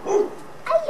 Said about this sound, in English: Did you hear the doggy across the street?